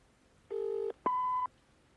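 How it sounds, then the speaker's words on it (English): A telephone sounds two steady electronic tones, one after the other, each about half a second long with a short gap between, clear and close without talk. "Victor, pick up the phone."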